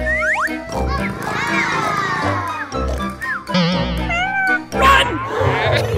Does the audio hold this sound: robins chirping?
no